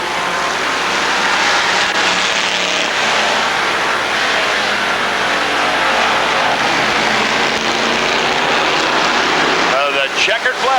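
Race cars at Rockford Speedway, 1999 Bahama Brackets, roaring around the oval on the final lap, a continuous loud engine drone filling the whole stretch with a brief dip near the end, with an announcer's voice underneath.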